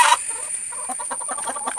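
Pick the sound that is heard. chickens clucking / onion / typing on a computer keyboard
chickens clucking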